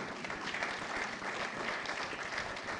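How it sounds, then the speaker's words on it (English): An audience at a Council on Foreign Relations Ghana launch event claps, a dense, even burst of applause from a crowd, moderately distant and steady throughout. "But please, a round of applause."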